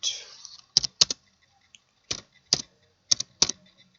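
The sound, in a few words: typing code on a computer keyboard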